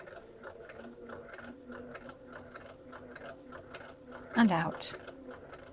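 Sewing machine stitching fabric in a straight line, a steady, even mechanical whirr with rapid rhythmic needle pulses, while a calm voice speaks briefly near the end.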